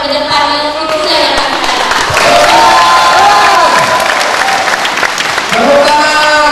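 Loud, sustained applause and cheering from a campaign crowd gathered in a futsal hall, clapping continuing throughout with some shouting voices mixed in.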